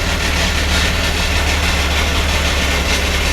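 A Honda Activa 6G scooter engine runs at idle, a loud, close, continuous low drone with an even throb that holds steady throughout, with no talking.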